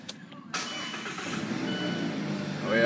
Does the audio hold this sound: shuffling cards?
no